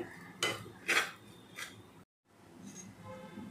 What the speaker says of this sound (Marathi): वरई आपली छानपैकी अशी भाजून झालेली आहे।